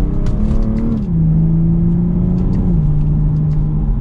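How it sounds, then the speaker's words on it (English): A 2022 BMW M440i Convertible accelerates hard, its engine note loud and close, climbing through gears in steady rising pulls with brief dips at each shift. "And one last acceleration for today's video."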